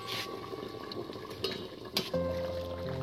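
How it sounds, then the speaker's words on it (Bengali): A pot of chitol fish curry with potatoes bubbling steadily on the stove, a soft continuous simmer with a few brief clinks partway through, followed by a faint steady hum. "ওহ করে ফুটছে একদম।"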